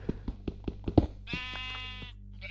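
A sheep bleats in the Minecraft video game: a series of soft clicks is followed by one drawn-out, wavering bleat and the start of another, close and clear with no talk over it.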